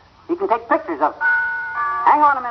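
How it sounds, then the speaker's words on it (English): A doorbell sound effect on an old-time radio comedy show rings as a two-tone chime, sounding in sustained tones right after someone speaks a few quick words. "That's our doorbell."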